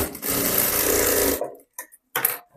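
A sewing machine stitches a salwar seam in a fast rattling run of about a second and a half, then stops, followed by a couple of brief clicks and taps nearby.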